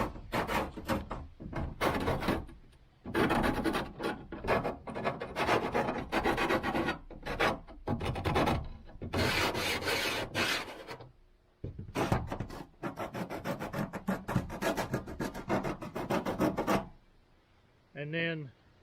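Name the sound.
sanding burrs off cut metal with 80 grit sandpaper on scrap wood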